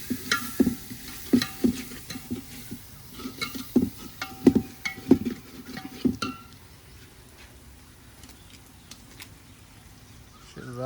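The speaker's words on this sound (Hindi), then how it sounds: "ये लहसुन अदरक का पेस्ट है शहजाद भाई।" Garlic ginger paste for chicken masala sizzles in a pan while a spoon scrapes and taps against the metal in irregular strokes, close up, then settles into a softer steady fry.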